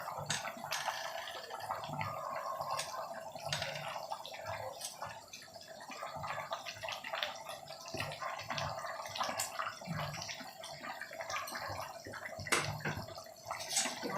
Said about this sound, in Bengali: তরকারিটা দেখুন ফুটে উঠেছে